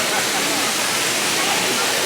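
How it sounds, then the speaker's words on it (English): Garden waterfall at Wisley during a Christmas light event: a constant, dense rush of falling water, loud and close, filling the short stretch with steady hiss. "There's a waterfall over here as well."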